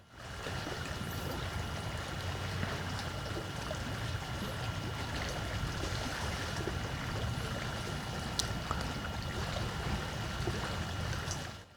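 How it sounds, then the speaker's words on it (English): Faint, continuous rushing water, like ocean waves washing on a beach, heard at a distance from a drone under steady broadband noise, with no talking. "I'm not sure if you can hear the water, the waves on the beach is so beautiful"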